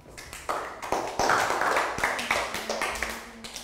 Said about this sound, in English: Round of applause for Pak Boon